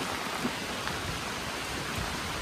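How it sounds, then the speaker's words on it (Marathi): Monsoon rain falls over the Kerala backwaters at Alleppey, a steady, dense hiss of rainfall with no pauses and no voices. "सगळीकडे पाऊस सुरू झाला आता."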